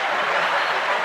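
A small group of people clapping in a podcast setting gives a short, dense burst of applause, loud and close, with voices mixed in.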